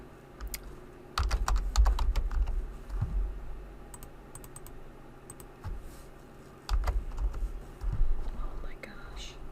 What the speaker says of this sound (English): oh, Helen, I'm going to put in today's date